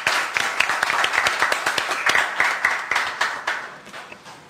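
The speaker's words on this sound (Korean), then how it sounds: "역시 박수로 맞아주시기 바랍니다." Audience applause welcoming a panelist at a Korean press forum, a steady patter of many hands clapping at moderate volume throughout.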